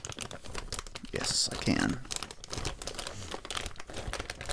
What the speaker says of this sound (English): those are shredding scissors. They're like the manual version of a document shredder.